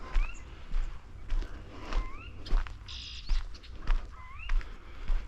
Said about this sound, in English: Merlin also picked up a yellow warbler, so that's a good sign.